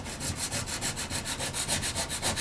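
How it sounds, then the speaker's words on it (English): Hedge trimmer parts are rubbed with abrasive to roughen them: a steady, rhythmic back-and-forth scraping at a quick pace, close and loud, with no voices. "I'm going to roughen them up as well."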